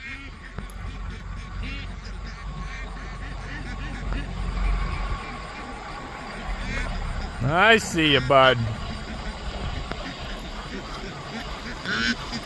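Ducklings on a small farm give a short burst of bright quacking calls near the middle, close by, over steady outdoor background noise, with someone talking quietly.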